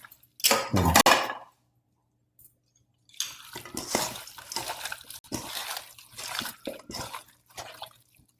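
Chicken biryani marinade ingredients are mixed together by hand at close range: one short burst, a brief silence, then a run of irregular wet squelching and dripping sounds.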